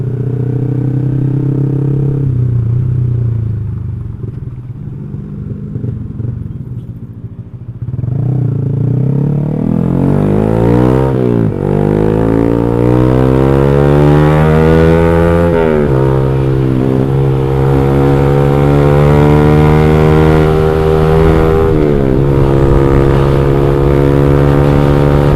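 Motorcycle fitted with an X1Speed Pro One aftermarket exhaust, heard close and loud, idling and then revving repeatedly with rising and falling pitch sweeps.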